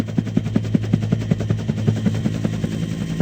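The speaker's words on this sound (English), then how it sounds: "Click on Harold's rotor blades as fast as you can to make Harold take" A rapid, evenly spaced chopping pulse, about four beats a second, from Harold the helicopter's rotor spinning up for takeoff in a Thomas & Friends game, loud and steady for a few seconds with no talking.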